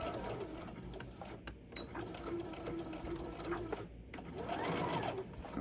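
Sewing machine back stitching an iPad sleeve, a steady mechanical whir with a rapid needle rhythm, close and moderately quiet, briefly pausing midway before running again.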